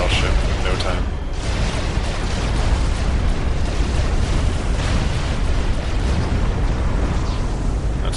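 In the Supreme Commander video game, UEF Broadsword gunships pound a battleship with a dense, continuous rumble of loud, booming explosions and crackling bursts, a speaking voice running over the barrage.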